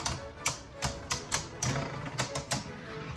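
Hasbro Pro Series Cho-Z Valkyrie Beyblade tops battle in a stadium, giving off a rapid, irregular series of sharp clacking hits close by.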